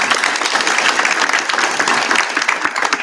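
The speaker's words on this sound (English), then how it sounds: "You can clap if you want." Steady, dense applause from a crowd at a township council meeting in Gloucester Township, many hands clapping together at an even level for about three seconds with no talking.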